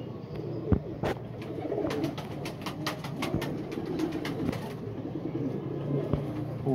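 Pigeons coo softly and repeatedly amid a busy background of fluttering, scratching and rustling, with occasional sharp taps.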